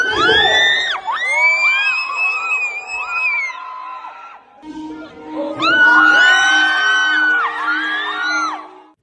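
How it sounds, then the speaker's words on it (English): Fan meet crowd erupting in high-pitched screams, whoops and cheers, two long waves of loud shrieking separated by a brief dip. "the crowd goes wild"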